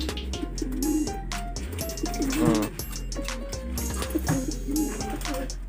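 Racing pigeons coo softly and repeatedly nearby, their low throaty calls overlapping, while a person talks intermittently in the background.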